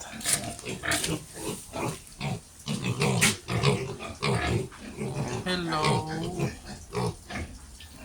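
Upgraded piglets oink and grunt repeatedly at close range, squeals and snorts overlapping, while a person speaks over the farm animals.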